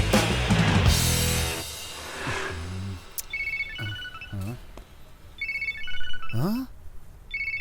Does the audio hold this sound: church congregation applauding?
no